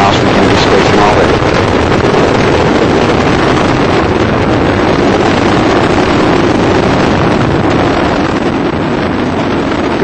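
Space Shuttle Discovery's engines roaring during the STS-116 launch, throttling back near maximum dynamic pressure: a loud, continuous, wind-blown broadband rumble that holds steady throughout with no break.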